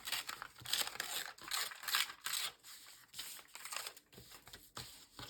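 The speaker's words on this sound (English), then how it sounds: "So I'm going to tear down the extra." Excess paper being torn off a handmade junk journal card, close and quiet, a series of crinkling rips and rustles in irregular bursts with brief pauses between them.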